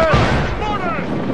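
Ship-mounted mortars firing in Assassin's Creed Rogue, a loud, booming naval blast with a rumbling tail, close and dominant throughout the brief moment.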